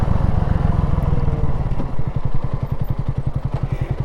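A Honda CB250RS motorcycle idles and then pulls through a slow turn at a junction, its single-cylinder engine thumping in a steady, rapid pulse that grows more distinct in the second half, close and fairly loud.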